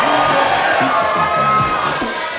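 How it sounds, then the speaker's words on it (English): A crowd cheering and whooping at a collegiate sport climbing championship final, a steady loud roar with shouted voices rising above it throughout. "Come on, crowd, let's juice him up a little bit."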